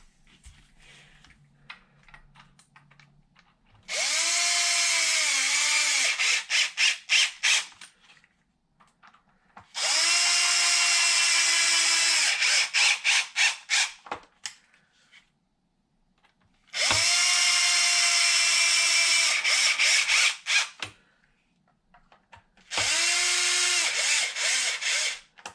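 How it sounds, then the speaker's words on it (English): A power tool drives screws into the differential cover of a Traxxas XRT RC truck in four loud, steady whirring bursts, each ending in stuttering clicks, separated by quiet pauses. "And then I can also tighten down the cover."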